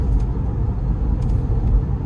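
The 3.6-litre engine of a Porsche 997 Carrera drones low and steady from inside the moving car, a continuous rumble with no talking.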